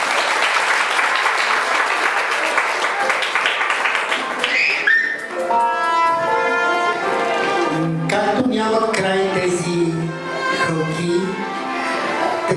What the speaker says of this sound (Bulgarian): Нека да ръкопляскаме всички.